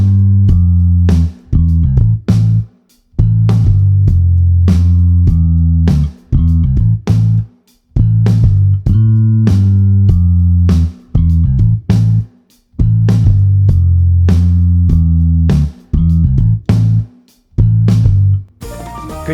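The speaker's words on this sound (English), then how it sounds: "Now let's hear the drummer come in and play along to that part on the bass." Drum kit joins a bass guitar, with kick and snare hits locked to a repeating low bass line in a steady groove, loud and close with short pauses between phrases.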